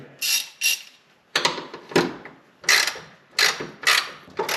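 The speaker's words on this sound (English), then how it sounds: "The first thing I will tighten are the nuts on the bottom." A ratchet tightens 16 mm nuts on a Jeep WJ's rear long arms, giving close, crisp clicking strokes in short irregular bursts with quiet gaps between them.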